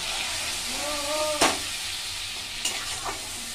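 Tomato paste frying in a hot pan with a steady close sizzle and hiss, cut by a couple of sharp scraping stirs and a brief tonal clink early on.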